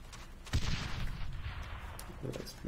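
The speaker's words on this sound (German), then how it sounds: "Da explodiert irgendwas." Video game explosion from a multiplayer vehicle match, a sharp booming blast near the start that decays into rumbling debris and gunfire-like crackle over a couple of seconds, with faint background noise and no clear speech.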